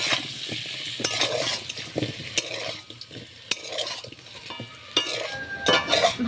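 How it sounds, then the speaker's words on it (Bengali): Potatoes with turmeric and salt fry in hot oil, a steady sizzle broken by the scraping and clinking of a utensil stirring them in the pan, close and fairly loud, with no talk. "আলুটা আমি লাল লাল করে ভেজে নেব।"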